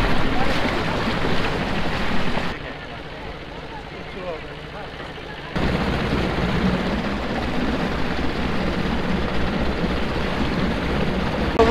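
A motorboat tows a rowing boat by rope on Maithon reservoir, with a constant engine drone, rushing water and wind buffeting the microphone, loud and close, dipping briefly for a few seconds.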